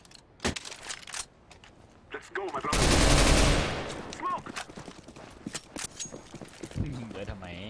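Video game gunfire crackles in scattered shots, with one loud dense burst in the middle, while a player talks over it.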